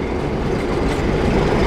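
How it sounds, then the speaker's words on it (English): A QPSR train rolls along its rails with a dense, continuous rumble and clatter of wheels close by, loud and steady with no talk. "Hear the locomotive."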